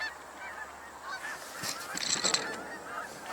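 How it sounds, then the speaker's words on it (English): A flock of geese honks outdoors, with a cluster of louder overlapping calls rising midway over a steady low background. "Hear more geese. Sounds like maybe a flock of them."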